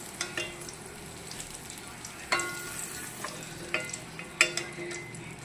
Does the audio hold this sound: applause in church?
no